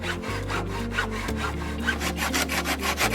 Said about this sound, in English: using your hacksaw, cut off the back of the pallet